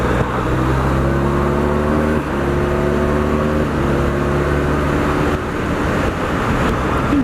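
A BMW R1200GSA motorcycle engine drones loudly and continuously, its pitch rising and then dropping at a few points as gears change with Gear Shift Assist Pro, without the clutch, under a constant rush of road and wind.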